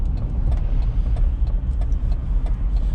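A car drives around a town square in West Plains, Missouri, with loud, steady engine and road rumble from inside the vehicle and occasional light rattles, without talking.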